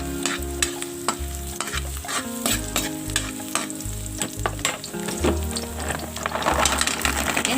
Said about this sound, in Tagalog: pagkatapos, lutuin ang bawang. Isunod yung onion.